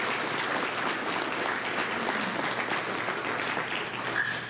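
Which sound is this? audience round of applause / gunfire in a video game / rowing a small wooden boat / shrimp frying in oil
audience round of applause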